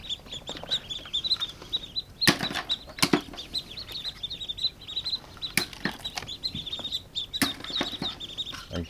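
Ducklings hatching from duck eggs give repeated high, thin peeps and chirps close by, broken by a few sharp knocks and rustles, with no talking.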